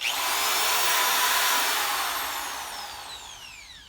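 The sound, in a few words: cordless drill running at variable speed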